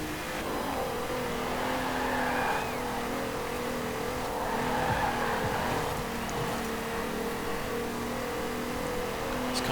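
Hot hatchbacks, including Volkswagens, Ford Escorts and a GTI, race in Forza Horizon 4, giving a steady, fairly loud engine drone with gear-shift changes and road noise throughout, no speech.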